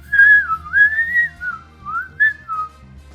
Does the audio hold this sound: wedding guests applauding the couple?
no